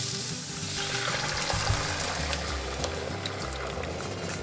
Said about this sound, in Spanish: Vertemos la salsa que acabamos de preparar.